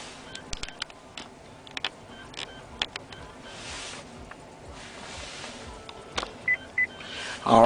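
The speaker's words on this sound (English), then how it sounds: "those two beeps tell you that it's ready to be able to be pushed in" Two short electronic beeps from a GM car navigation unit's disc slot near the end, following faint clicks and mechanical ticks in a quiet cabin.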